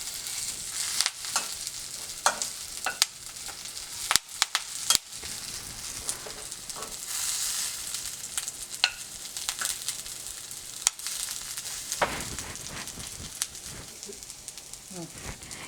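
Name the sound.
curry leaves and garlic crackling while frying in oil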